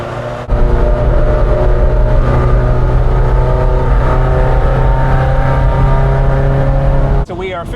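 A Ferrari engine and its 2B-style exhaust reverberating inside a road tunnel, a loud, sustained droning growl that holds steady for several seconds before cutting away near the end.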